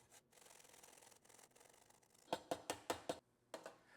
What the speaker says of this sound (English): My box grater is terrible.